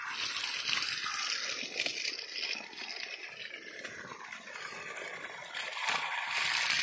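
A tap just turned on after a long time unused, pouring water in a steady broad rush that stays fairly even and moderately loud throughout, with no voices over it.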